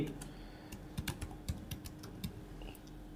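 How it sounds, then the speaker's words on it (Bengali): Keys clicking on a computer keyboard as a name is typed, a quick run of separate taps with short pauses, close and moderately loud against a faint steady background hum, with no talking. "ধরুন সাপোজ আমি এখানে একটা একটা নাম লিখবো ফর এক্সাম্পল সাকিব"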